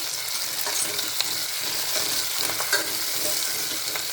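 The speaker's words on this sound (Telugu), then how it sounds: "కొంచెం వేగిపోయాయి కదా టమోటాలు, కరివేపాకు కూడా ఇందులో వేసేసుకుందాం మనము" Tomatoes and curry leaves fry in a pan while being stirred, giving a steady, close sizzle with scattered scraping clicks from the spoon throughout.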